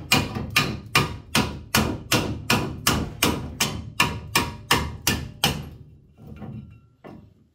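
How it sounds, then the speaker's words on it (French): Soft hammer repeatedly striking the rocker panel of a Honda CRX ED9 under restoration, about fifteen evenly spaced sharp knocks, then a pause and a couple of duller, quieter taps. "On va prendre un marteau assez doux."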